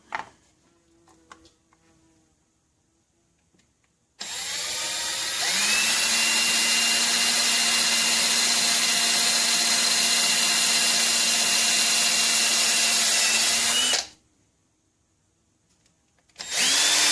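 A drill bores through diamond plate on a 1975 electric car, starting abruptly after a quiet lead-in with a loud, steady, high whine that holds for about ten seconds before stopping, then briefly starting again.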